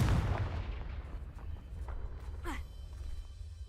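A Confringo fire spell blasts in Hogwarts Legacy: a booming low impact rumbles out, followed by a rising whoosh near the end over a steady low background.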